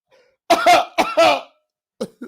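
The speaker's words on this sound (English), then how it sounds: "Let me clear my throat." A person clears their throat close to the mic with two loud, rough bursts, each made of a pair of harsh rasps, followed by a couple of brief fainter throat sounds.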